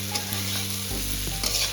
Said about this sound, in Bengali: তো বন্ধুরা, এখানে আমার নাড়াচাড়া করছি